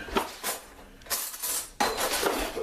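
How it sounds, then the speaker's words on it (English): Metal cutlery clinks and rattles close by as a butter knife is pulled from a drawer of utensils in a home kitchen, in several short jangling bursts. "Let's get a butter knife"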